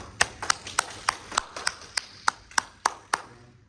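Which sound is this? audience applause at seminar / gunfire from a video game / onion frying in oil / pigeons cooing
audience applause at seminar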